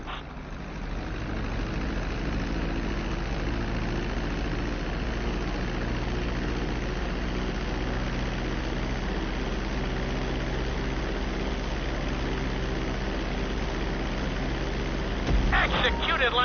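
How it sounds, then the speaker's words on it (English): Airplane engines hum in GTA 5 as a plane comes in to land on a runway, a steady low droning roar that holds evenly throughout with a slight rise near the end, with game voices over it. "Start to decelerate while you're still in the air, but be careful not to stall the engines."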